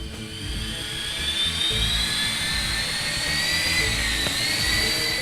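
An eSky Nano micro coaxial RC helicopter flies with a steady high-pitched whine from its small electric motors, its pitch rising and dipping slightly as the throttle changes, close and continuous.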